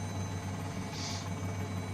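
An R44 Raven II helicopter in Microsoft Flight Simulator drones steadily with a low, even engine and rotor hum, constant and unbroken.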